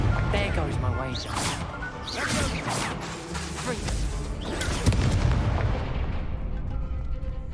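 Spell-casting effects from the video game Hogwarts Legacy, including an Incendio fire spell: repeated crackling blasts and crashing bursts over a dense, steady game soundscape, with speech mixed in.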